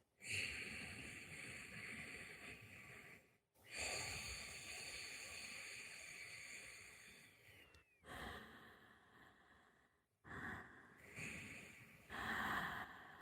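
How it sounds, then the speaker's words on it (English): Slow, breathy ujjayi breathing: throat-constricted exhales and inhales in long sustained waves, fairly close, separated by brief pauses, with a hissing, ocean-like rasp. "In this oceanic breath, there's a slight constriction in the back of your throat."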